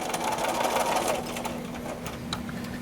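A sewing machine runs steadily along a table runner seam, a close, continuous mechanical whir with a rapid stitching rhythm, and a voice is faintly present.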